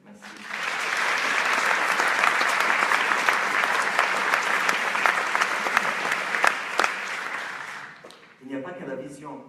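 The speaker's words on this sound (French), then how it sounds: "Je vous demande de les applaudir" Sustained, dense audience applause for the staff at the opening ceremony of the 2016 International Film Festival, loud and steady for about eight seconds before fading as a voice starts speaking.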